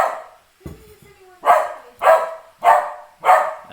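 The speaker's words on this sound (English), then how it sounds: "Excuse the dog." A dog barks four times in a steady, evenly spaced series, loud and close, after a brief scuffle of indoor noise.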